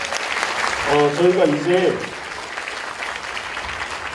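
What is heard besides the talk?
applause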